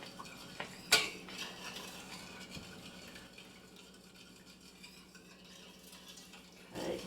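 Gluten free country gravy stirred continuously in a pan, a utensil scraping and swishing with one sharp clink of metal on the pan, steady close stirring without speech.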